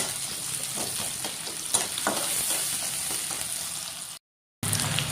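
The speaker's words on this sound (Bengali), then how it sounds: "কাঁচামরিচ পেস্টটা আমি ভাজা নিম ভালো করে" Green chili paste fries in mustard oil with chopped onion for fried rice, a steady close sizzle broken by scraping stir strokes, then a brief cut to silence before the frying resumes.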